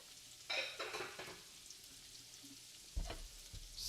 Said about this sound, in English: Stir the butter around the garlic so that it doesn't overcook.